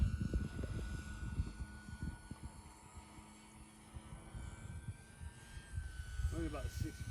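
A Dynam PT-17 RC biplane flying at partial throttle, a faint, thin steady motor whine heard from a distance, with people talking intermittently nearby.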